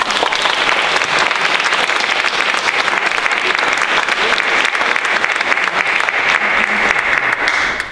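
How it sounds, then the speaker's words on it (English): Loud, sustained audience applause for a speaker at an evening program on a mining program and Lithuanians in northeast Pennsylvania, with dense steady clapping filling the whole stretch. "Another round of applause, please."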